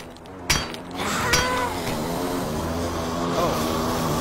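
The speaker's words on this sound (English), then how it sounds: "Oh, plane outside." A propeller airplane flying overhead outside in the video game 7 Days to Die, a steady droning engine hum after a couple of sharp knocks, continuous and fairly close.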